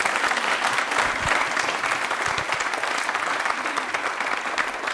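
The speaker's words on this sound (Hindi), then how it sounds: "ताली एक बार जोरदार हो जाए।" A studio audience on a yoga television show applauds loudly and continuously, a dense, even patter of many hands lasting several seconds with no speech over it.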